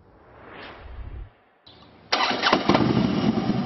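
A Harley motorcycle engine is cranked, sputters briefly, then catches and roars into a loud, rumbling idle close by.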